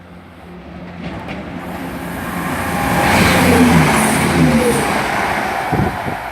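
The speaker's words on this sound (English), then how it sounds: "170, 110 is on Nottingham to Cardiff Central, passing Barnt Green." A Class 170 passenger unit on a Nottingham to Cardiff Central service runs through Barnt Green station without stopping, a steady rumble that swells to a loud peak mid-pass and then eases slightly. No voices.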